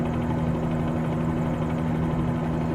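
A Bell 47G helicopter in flight on a sightseeing trip over Toronto, its engine and rotor holding a steady, loud, even drone close by, with no talk over it.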